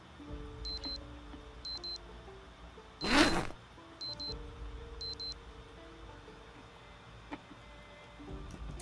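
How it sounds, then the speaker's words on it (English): Repeated electronic beeping of an alarm clock in the survival game Project Zomboid sounds in short evenly spaced bursts, with a sudden loud whoosh partway through, all over a faint background. "I wish there was just like a button you could hotkey that says stop your alarm, because that sound really annoys me."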